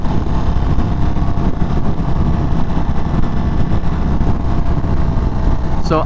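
A 2023 Indian Springfield Darkhorse motorcycle engine runs steadily and loudly up close, with a constant broadband rumble and wind noise that holds evenly throughout without a pause.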